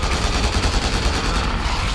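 Continuous, dense gunfire in Resident Evil 6 rattles without pause, a loud barrage of rapid automatic shots blending into a constant roar.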